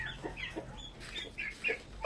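Young chickens cheep and cluck softly in short high chirps while running about on a farm, close by but fairly quiet, without speech.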